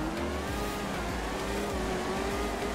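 A 1,000-horsepower Dodge Hellcat in GTA 5 roars continuously as it accelerates, a loud sustained engine drone with a steady rising whine and rhythmic low pulses, close and unbroken.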